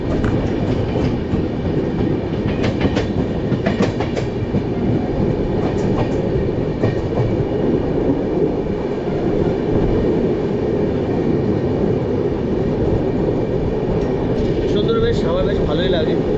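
Passenger train running on the line after crossing a bridge near Panchratna station, a loud, close, continuous rumble with rhythmic wheel clatter, a person talking over it throughout.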